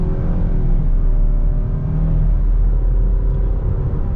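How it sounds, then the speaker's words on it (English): A 2021 Nissan Rogue Platinum with a CVT accelerating hard in sport mode: a steady, loud low engine drone with a rising whine runs throughout from inside the cabin, with no speech. "we are in the sport mode, and we're gonna get our acceleration here with the Rogue"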